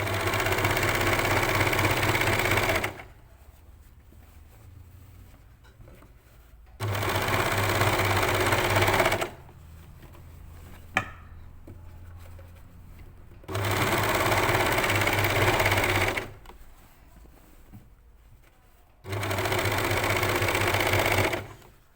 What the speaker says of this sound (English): you're only overlocking the layers you need to overlock